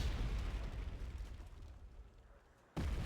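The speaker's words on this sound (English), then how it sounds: "those are just mortars" Mortar rounds exploding in a video game, a rumbling low blast that fades out over a few seconds, then a sudden fresh boom at the end.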